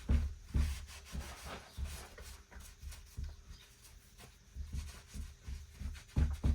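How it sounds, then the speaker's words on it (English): A cloth wipes down a GPX FSE250e EFI motorcycle, making close, irregular rubbing and scuffing strokes with a few louder swipes, and no talking. "Bit of a wipe down."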